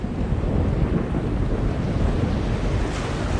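Chaos storm in the adventure game The Longest Journey: a loud, steady roar of wind and crashing waves, dense and continuous, filling the scene with no voices.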